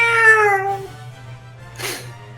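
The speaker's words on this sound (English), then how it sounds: "Fucking stupid cat." A house cat lets out one clear, drawn-out meow close by, its pitch sliding downward, followed by a brief breathy rustle against a steady low hum.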